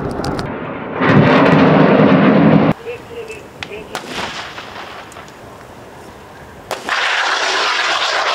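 Heavy 125 mm gun fire during a Serbian Army live-fire exercise, with loud booming blasts and long rumbling roars that cut off abruptly, separated by quieter stretches of distant crackle and ambient noise.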